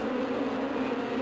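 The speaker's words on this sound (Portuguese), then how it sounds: "Cuidado, abelhas nervosas." Angry bees in the video game Sheep Raider give off a steady, dense buzzing drone that holds at an even level throughout, with no voices over it.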